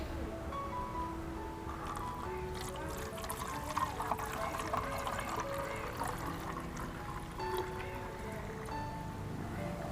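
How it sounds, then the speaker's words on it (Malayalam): Diluted organic orchid fertilizer made with jaggery is poured into a bottle, giving a faint, soft trickling pour over quiet background tones. "ഇനി നമുക്ക് ഈ ഒരു ബോട്ടിലോട്ട് ഇതിനെ ഒഴിക്കാം."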